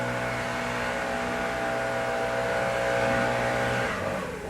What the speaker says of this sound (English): There's a leaf blower outside.